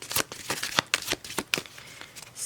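Tarot cards being shuffled by hand, a quick close series of crisp riffling flicks and slaps in an uneven rhythm, no talking.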